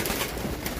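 Birds cooing softly, a brief dove-like call close by against a noisy background.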